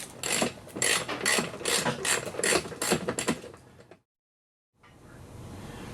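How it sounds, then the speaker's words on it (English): Ratchet with an Allen socket turning a bolt on a car bumper, a run of brisk close clicking strokes for about four seconds, then a short silence and a steady low background. "We're going to put our Allen into the bolt. Other side has the same bolt. Up with the Allen socket."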